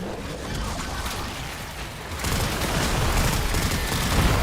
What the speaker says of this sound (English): Calling an airstrike.